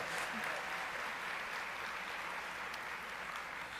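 A debate audience claps steadily for a tour sponsor, producing an even wash of applause at moderate distance that holds level throughout. Faint voices sit underneath the clapping.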